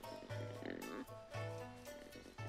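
Pigs oinking in Zelda Wind Waker HD, several short nasal grunts in a repeating pattern over quiet game music, fairly faint, no one speaking.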